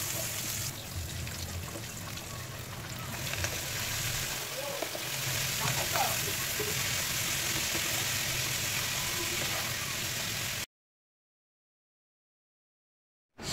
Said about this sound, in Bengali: এখানে সামান্য পরিমাণে তেল দিয়ে বেশ খানিকটা কাঁচামরিচ আর রসুন কুচি দিয়ে একটু ভেজে নিচ্ছি।